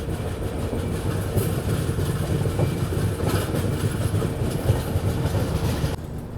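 Rolling along the tracks near Ludhiana Junction, the Amritsar Jaynagar Humsafar special train gives a continuous low rumble with faint clickety-clack, steady and enveloping from on board, dropping slightly near the end.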